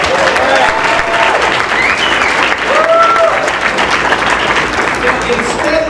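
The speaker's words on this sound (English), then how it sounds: "let's have a round of applause" Crowd applause fills a political endorsement gathering at a Warren, Michigan union hall, loud and sustained for the whole stretch, with cheers and scattered voices rising over the steady wash of clapping.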